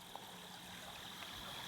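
Creek flowing at night beside its banks, a soft, continuous watery rush with a faint steady whine above it, distant and even throughout.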